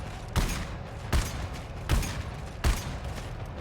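Gunfire in the video game GTFO: four sharp, booming shots fired at roughly even intervals of about three-quarters of a second, each with a short decaying tail over a low background rumble.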